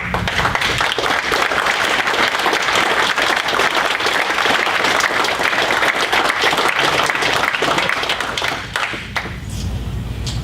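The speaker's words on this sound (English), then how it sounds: "stand up so we can applaud and recognize you for laying the foundation that you laid" A town hall audience applauds in a dense, steady wash of clapping that lasts about nine seconds, then thins toward the end.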